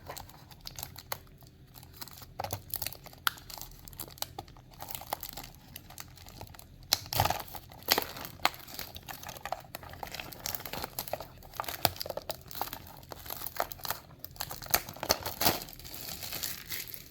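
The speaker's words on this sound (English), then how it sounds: "So let's unbox and see if that is what really is inside." Crinkling and rustling of a Majorette Lamborghini Urus toy car package being opened, with irregular crunches, tearing and plastic clicks, close and moderately loud, no talking.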